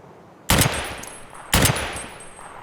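Gunfire in Escape from Tarkov, two loud, close bursts of rapid automatic fire about a second apart, each sharp crack trailing into a brief echoing tail, with no talking.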